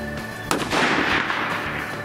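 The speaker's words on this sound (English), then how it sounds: "I want to shoot a .308 then" A single .308 rifle shot cracks sharply outdoors, followed by a long rolling echo.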